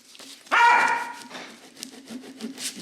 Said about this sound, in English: It's my dog, Yoshi.